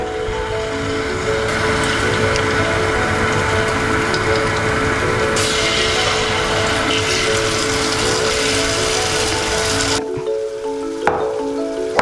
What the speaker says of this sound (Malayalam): നെയ്യൊന്ന് മൂത്ത് വരുമ്പോൾ നമുക്ക് നമ്മുടെ മാവ് ഒഴിക്കാം